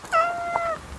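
A house cat gives one clear, close meow, a drawn-out tonal call lasting about half a second over a quiet room background, with no talking.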